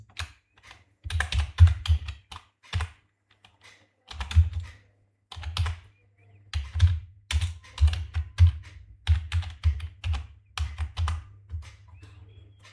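Someone types on a computer keyboard in quick clustered bursts of close, crisp key taps, separated by short pauses.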